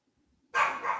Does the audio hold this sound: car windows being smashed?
no